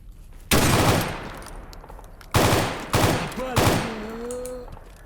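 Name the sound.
gunfire from enemies in video game Escape From Pripyat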